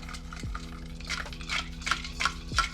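Chestnut praline candy being whisked by hand in a pot, with steady scraping and clinking of a metal whisk against the pot in a loose repeating rhythm, close and moderately loud, with no talking.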